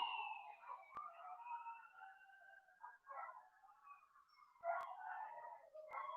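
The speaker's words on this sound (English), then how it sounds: "you're gonna hear a siren and then a bunch of dogs bark" A distant siren wails faintly across a big city while dogs bark and howl in scattered bursts, all thin and far off against near silence, punctuated by a few sharp clicks.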